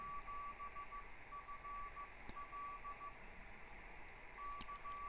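A CW Morse signal on the 10 meter band, received through an SDR, beeps as steady dashes and pauses over loud, hissing background static.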